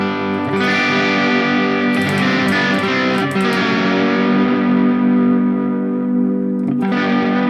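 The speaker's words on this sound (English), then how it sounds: "It sounds nice for these crunchy tones." Electric guitar played with a crunchy, distorted tone through a MESA amp model on a Valeton GP-200 multi-effects unit, using a Harley Benton Fusion guitar with humbuckers; sustained loud chords ring out alone with a brief pick attack near the end.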